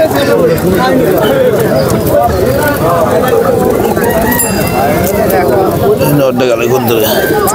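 Pigeons coo amid a crowded Bengali village market, at a weekly Monday pigeon fair in Nazirpur bazaar where the birds are sold in pairs. The birds' cooing sits under constant loud crowd chatter and bargaining voices.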